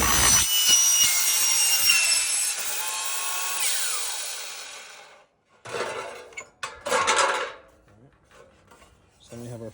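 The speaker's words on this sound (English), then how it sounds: "you're gonna engage the saw before you go down" A miter saw cutting wood: the motor whines at full speed through a long cut, then spins down into silence, followed by a couple of shorter bursts of cutting and clatter close by.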